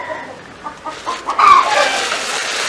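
Several hens cluck at a village chicken coop in Jaffna where five birds lay eggs. Scattered soft clucks build into a louder, busier stretch of clucking close by.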